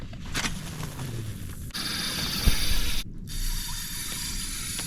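Fishing reel drag on a cheap little Roxani reel, rodeo fishing with a soft bait, clicking in a rapid ratchet run as a hooked fish pulls line, close and fairly loud with brief pauses, no talking.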